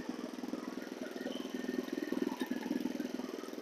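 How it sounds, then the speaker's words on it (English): Small engine on a Husqvarna DT22 dethatcher idling with a steady, fast, even putter, close by and moderately quiet. "Just slow that engine down a little bit so you can hear me."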